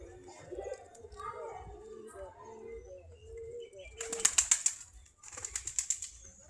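Native desi pigeons coo softly while people talk nearby, then two sharp bursts of wing flapping clatter loudly near the end.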